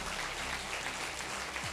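Audience applause for an upline at a gathering, a steady, even wash of clapping from a crowd, fairly faint and continuous without pauses or voices.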